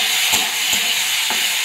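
Ivy gourd (kundri) frying in oil in a wok with salt and turmeric gives a steady close hiss of sizzling, with three soft scraping strokes of a spatula.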